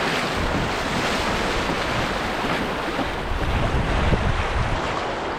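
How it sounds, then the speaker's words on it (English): A kayak runs through creek rapids on a bass fishing trip, with loud, steady rushing and splashing water close by and heavy wind buffeting the microphone throughout. "Got some rapids again."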